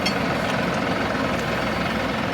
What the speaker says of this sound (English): Tractor's running.